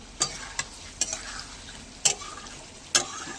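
Something is stirred and fried in oil, with a steady low sizzle broken by five or so sharp, close scraping clacks of the spoon against the pan at irregular intervals.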